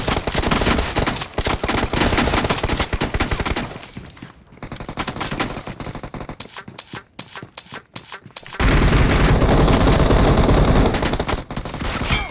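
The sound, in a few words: gunfire in the video game BGMI (PUBG Mobile)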